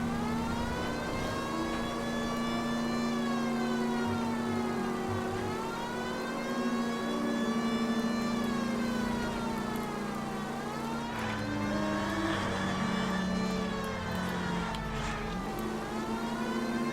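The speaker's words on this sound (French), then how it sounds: "J'ai encore oublié la sirène." Police car siren wailing in L.A. Noire, a steady rising-and-falling electronic wail that runs the whole stretch over a low engine drone, loud and close with no talking.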